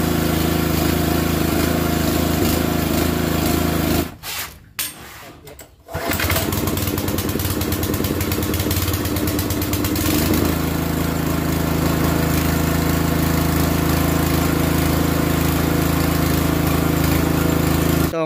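A gasoline pressure washer engine runs loud and rough close by, a steady droning rattle with a brief dip and sputter partway through before it resumes at full noise.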